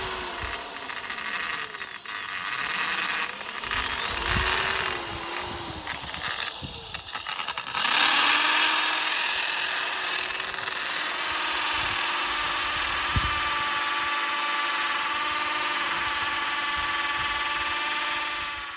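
Power drill boring holes into a concrete block wall column on a barn build, a loud sustained whine that rises and dips, then holds steady, heard up close.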